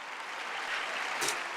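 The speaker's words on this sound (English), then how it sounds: "God, you're gonna clap yourself apart, Nancy, be careful" Audience applause during a State of the Union speech, heard as a steady, dense wash of clapping from a large room, moderately loud and unbroken, with no voices over it.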